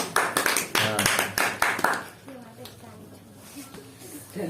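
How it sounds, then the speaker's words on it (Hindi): A crowd at a devotional katha gathering for Vivah Panchami claps in a quick, rhythmic burst of applause lasting a couple of seconds, then fades as a voice carries on talking. "इसके लिए ताली"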